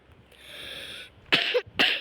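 Two sharp, loud coughs close to the microphone, back to back, following a steady faint hum, with no talking.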